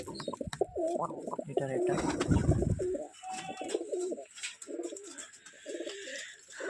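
Homing pigeons coo in a repeated low, throaty rhythm close by, with a brief burst of flapping or rustling partway through and someone speaking briefly.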